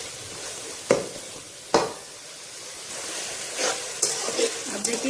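Okra tossed into hot masala in a pan sets off sharp sizzling bursts, a few distinct loud hisses with stirring clatter between, close and clear against a quiet kitchen background.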